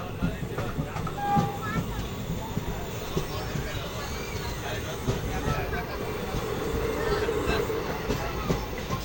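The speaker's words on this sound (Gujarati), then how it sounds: "આ રીતે ટ્રેન ચાલી રહી છે" A passenger train bound for Junagadh rolls through a railway station with a loud, continuous rumble and wheel clatter, occasional squeals, and people talking over the noise.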